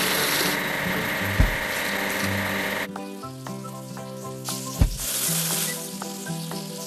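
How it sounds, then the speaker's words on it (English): Washing a toy locomotive in a kids' train video game brings bright scrubbing and sizzling water noise, then cartoonish tonal chimes and clunks over a background music loop, with two sharp thumps along the way. "Let's wash the locomotive."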